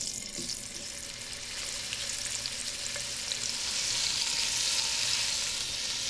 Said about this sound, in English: and then I'm gonna brown them in the pan.